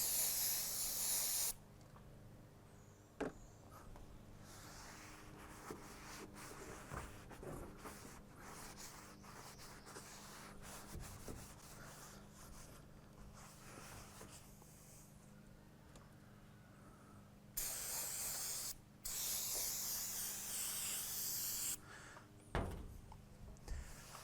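Bursts of aerosol degreaser spray onto a surface being cleaned before painting, a few short hissing blasts near the start and toward the end, with quieter handling noise in between.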